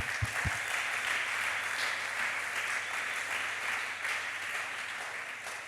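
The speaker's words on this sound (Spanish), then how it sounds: "Un aplauso para Él." A church congregation applauds after a prayer, sustained hand clapping at moderate distance with a couple of low thumps at the very start.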